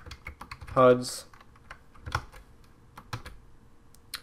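Computer keyboard typing in short bursts of clicky keystrokes, heard close up alongside someone speaking.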